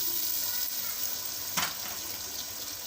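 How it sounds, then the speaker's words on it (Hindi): Chicken and spices fry in a pan, a soft steady sizzle, with a brief louder burst as tomatoes go in partway through. "अब हम इसमें टमाटर डाल देंगे"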